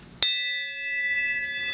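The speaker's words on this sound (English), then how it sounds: "So I can ring the bell." A small bell on a keychain gives one sharp, bright ring that decays into a sustained, shimmering tone lasting over a second, close by in a garage working on a 1946 Ford, with no voices.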